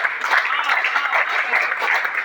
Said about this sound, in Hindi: तालियां थोड़ी बड़ी कर दीजिए आप।